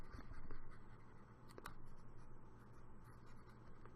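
Pencil lines being erased on paper, a faint, close, continuous scratchy rubbing with no talk.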